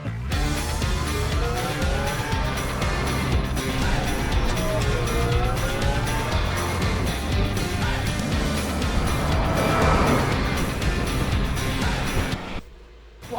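A Wolf electric truck drives hard around cones with a continuous whine and rushing road noise, tires squealing in rising and falling sweeps through the turns before the sound cuts off abruptly near the end.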